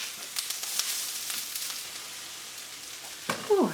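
Onions and peppers sautéing in a pan give off a light, close sizzle with a few soft taps, ending in a brief clatter and a short higher squeak.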